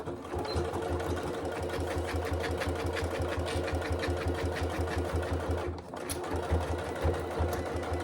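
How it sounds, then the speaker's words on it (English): A sewing machine runs steadily, basting a seam along the sides and top edge of a lined wash bag with an even rapid stitching rhythm, close and loud, with one brief pause. "I'll just stitch down one side, along the top edge, down the other side"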